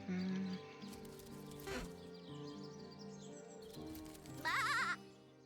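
Sheep in the video game Divinity: Original Sin bleat in short wavering cries, one near the start and a louder quavering bleat near the end, over a soft game music bed.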